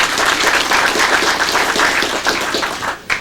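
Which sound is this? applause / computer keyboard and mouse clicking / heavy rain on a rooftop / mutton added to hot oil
applause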